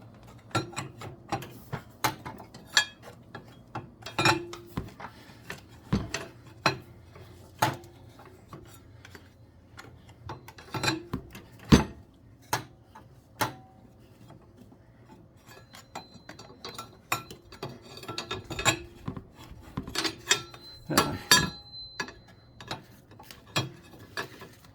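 Metal clicks and clinks come from a wrench turning the clutch adjustment nut on a Case Ingersoll tractor, sharp irregular ratcheting taps scattered over a quiet background with short pauses between bursts.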